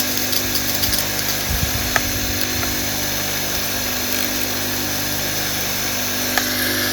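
A Karcher K3.55 pressure washer runs with its pump upside down and a leak, giving a steady, fairly loud motor whine and hiss throughout, with a brief rougher burst near the start as pressure builds.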